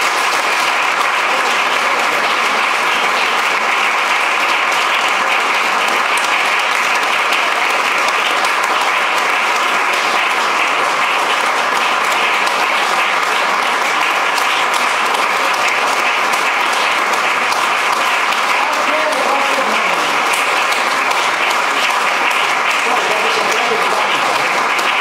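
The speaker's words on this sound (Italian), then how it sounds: "vi chiedo ancora giustamente un grande applauso per il Glauco" A concert audience gives long, sustained applause for a jazz improviser, a continuous wash of many hands clapping that holds steady and loud throughout with no speech over it.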